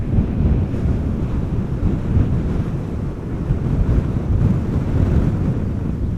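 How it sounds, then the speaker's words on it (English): Strong wind buffets the microphone at Amsterdam Schiphol Airport, a loud, continuous low rumbling roar with gusty swells and no voices. "The wind is relentlessly blowing from this direction approximately."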